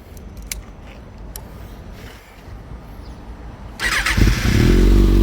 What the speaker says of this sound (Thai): เดี๋ยวมาฟังเสียงเครื่องยนต์กันดีกว่า